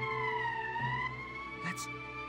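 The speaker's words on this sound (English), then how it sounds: "That's the emergency siren." An emergency siren sounds in the video game Valkyria Chronicles, a steady, faint wail of layered tones that holds for a couple of seconds, with a brief noise burst near the end.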